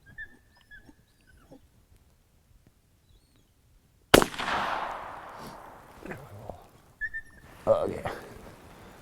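A single sharp, loud gunshot cracks out of near silence while shooting a muskrat outdoors, followed by a dog whimpering and whining nearby and a person talking.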